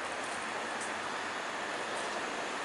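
Belgian Intercity train rolling slowly through a construction zone, a steady broadband rumble and rattle of the carriage heard from inside, continuous and even with no talk.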